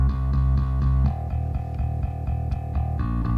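A synthesized bass guitar from Omnisphere playing a short, punchy line with a steady pulse, deep and round, alone without other instruments.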